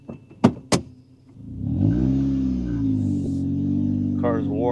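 A warmed-up Acura Integra with a REVEL Medallion exhaust starts up after a couple of sharp knocks, settling into a low, steady burbling idle with a slight rise in pitch, heard up close.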